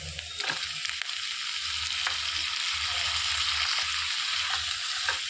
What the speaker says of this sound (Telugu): పచ్చివాసన పోయే వరకు వేయించుకోవాలి.